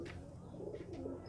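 A pet pigeon, a prized breed, gives soft low coos in a quiet setting, a few rounded calls across a second with faint chirps above.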